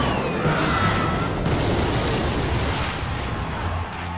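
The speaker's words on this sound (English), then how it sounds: "we're going to be able to get a fadeaway rocket down most likely" A rocket spell explodes in the mobile battle game Clash Royale, with a loud, dense roar of booming, crackling blasts that fills the whole stretch and then fades slightly at the end.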